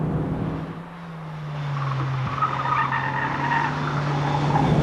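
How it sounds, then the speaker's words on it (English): Lotus Elise prototype sports car at 90 mph through a long bend, steady engine drone holding a sustained tone with wind and tyre roar, continuous and fairly loud from inside or near the car. "This is 90 miles an hour around a long bend, and the car remains"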